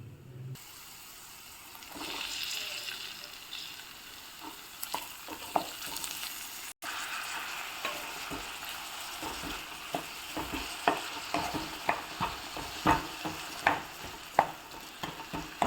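Chopped tomatoes fry over onions in a pan for a spicy Rayalaseema tomato curry, a steady sizzle running throughout with repeated scraping and stirring knocks that grow busier toward the end.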